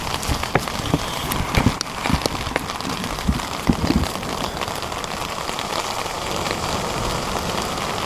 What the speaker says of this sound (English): The rain has not eased up, it's absolutely chucking it down still.